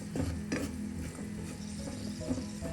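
Masala powder roasting in hot oil for mushroom gravy, a soft steady sizzle with scattered stirring scrapes and taps of a spoon against the pan, fairly quiet.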